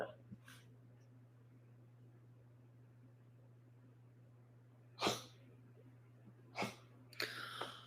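A small dog coughs in a few short, sharp bursts, one alone and then a closer pair, over a steady low household hum in an otherwise quiet room.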